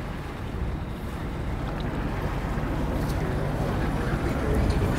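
Wind gusts of roughly 10 to 15 mph rush steadily past a boat on the Miami River, a continuous broadband roar that grows slightly louder toward the end, with a low engine rumble underneath.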